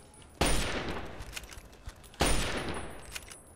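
Two gunshots in Fallout 3 crack out close and loud about two seconds apart, each trailing into a short echoing decay over quiet game ambience.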